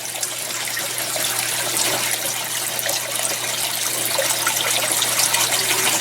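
Water pours steadily into an IBC tote fish tank, a continuous broad splashing rush that holds at a constant loud level near the microphone throughout, with no voices.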